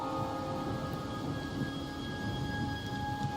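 Rain and thunder during a video game cutscene in Wuthering Waves, a steady soft hiss of rainfall with a low rumbling undertone and faint sustained tones, quiet and even throughout.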